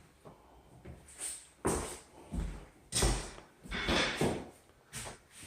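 Sliding closet doors in a house under renovation are pushed back and forth, giving a series of rolling, rumbling slides and soft knocks as the doors reach their stops, close and fairly quiet, with no talk.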